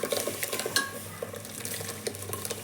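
Ground masala is stirred into a pan for avarekalu huli, with close, irregular spoon scrapes and clinks against the pan over a light sizzle, no voices.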